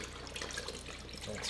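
Boiling water poured into a container for a grey water tank test, a brief steady splashing trickle heard close and fairly quiet.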